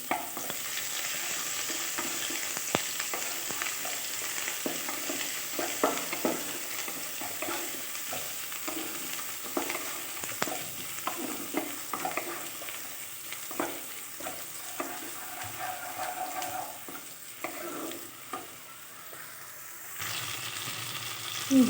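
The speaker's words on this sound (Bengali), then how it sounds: "তো তেলের মধ্যে দিয়ে একটু ভেজে নেব।" Chopped onion and ginger fry in oil, a steady close sizzle running throughout with frequent clicks and scrapes of stirring over it, no voices.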